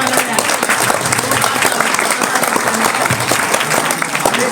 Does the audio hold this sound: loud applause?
yes